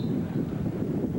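Steady wind buffeting the microphone at an outdoor beach volleyball match in Clearwater, a continuous low rumbling roar with no breaks.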